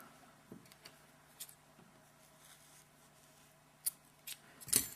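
Scissors snip crochet yarn on a small crocheted pumpkin in several short, crisp, fairly quiet cuts spaced apart, with the last ones sharper and closer together.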